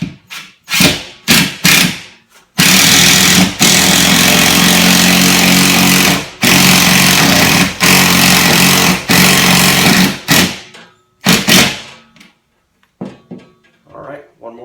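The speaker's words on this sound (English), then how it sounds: "I'm going to drive it in with an impact driver" An impact driver sets a screw into sheetrock with loud, close rattling bursts of hammering, several short pulses and then a longer sustained run, broken by brief pauses.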